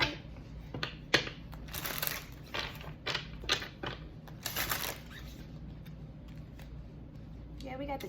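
A deck of tarot cards is shuffled in quick, crisp riffling bursts, the flurries separated by short pauses, with a voice in places.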